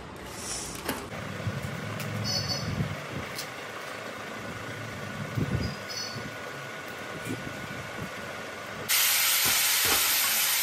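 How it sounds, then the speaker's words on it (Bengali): Food frying in oil in a home kitchen and being flipped over, a steady sizzling hiss with a few soft knocks, ending in a sudden louder, brighter burst of sizzle. "এই তেলের মধ্যে এপিট ওপিট করে ভাজতে হবে।"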